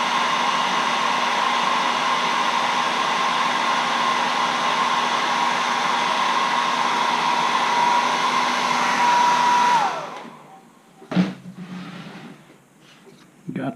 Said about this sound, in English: Hit that with a hairdryer real quick, just to get it enough dry